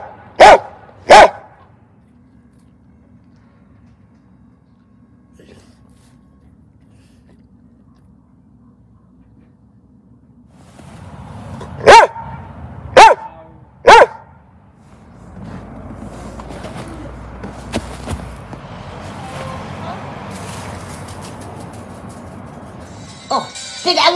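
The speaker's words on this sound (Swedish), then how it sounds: "det där var min tokiga hundkompis Lau" Dog barking: a pair of loud, sharp barks at the start, quiet for several seconds, then three more barks spaced about a second apart amid rising background noise and faint voices, with a final bark at the end.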